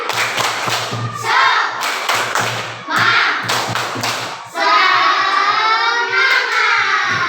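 A group of primary school children clap in a quick rhythmic pattern in a classroom, sharp claps in bursts, followed by cheering voices and more clapping near the end.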